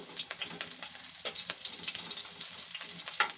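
Garlic sizzles and crackles steadily in a hot frying pan, a dense close-up hiss with sharp pops scattered throughout and no talking.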